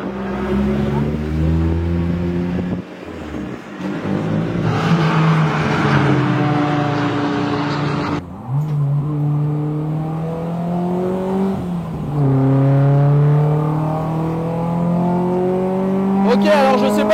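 A Peugeot 208 Cup race car, 140 horsepower with a manual gearbox, drives on a track, its engine droning loudly and continuously. Clear pitch climbs through the gears, with dips at each shift, and a voice speaks over the engine.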